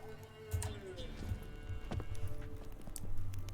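Hooves clip-clop at a walking pace in The Witcher 3, a steady rhythm of soft thuds with game ambience underneath and someone talking over it.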